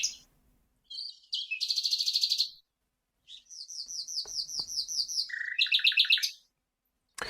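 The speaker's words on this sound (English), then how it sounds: "This is Birdsong." A songbird sings alone in short bursts of bright chirps and rapid trilled phrases, separated by brief silences.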